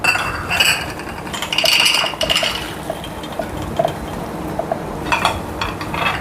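Peanuts are scooped and measured in a small metal bowl, giving scattered light clinks and rattling pours, close and fairly loud, during kitchen prep for sambar.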